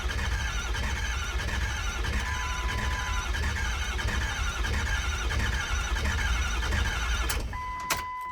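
A Ford 6.0L Powerstroke diesel cranks over on an upgraded 6.7L starter, a fast, steady rhythmic churning held for several seconds up close, ending with a few brief clicks and clunks.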